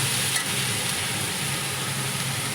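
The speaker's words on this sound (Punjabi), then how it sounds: "ਮਸਾਲੇ ਵਿੱਚ ਸ਼ਿਮਲਾ ਮਿਰਚ ਆ ਰਹੀ ਹੈ ਪਾ" Capsicum frying in masala in a pan, stirred: a steady, fairly quiet sizzle with a faint low hum underneath, continuous and even throughout, no talking.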